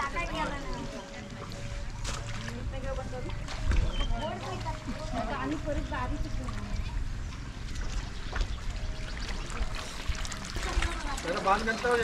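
Irrigation water trickles and pours into a flooded rice paddy in the Konkan ahead of transplanting, a continuous splashing flow heard under a person talking.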